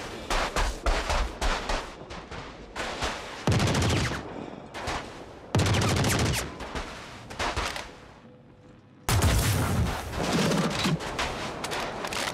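The Electron Bolt sniper rifle fires in the Star Citizen game: several loud, sharp, close shots ring out, spaced a few seconds apart, each with a crackling tail, over steady background gunfire.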